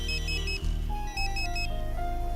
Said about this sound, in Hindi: भाई, आपका फोन बज रहा है।